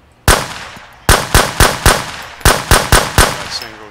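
Gunfire in the video game Road to Vostok: nine loud, sharp single shots, spaced irregularly about a third to half a second apart, each with a short reverberant tail, with no talking.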